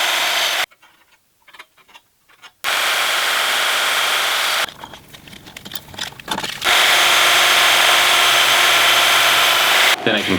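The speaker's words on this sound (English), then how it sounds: "I'll start by marking my metal and cutting it on the bandsaw." A bandsaw cuts metal stock in loud, steady bursts with a bright high whine, broken by quiet gaps and a stretch of lower rattling, then a long continuous cut.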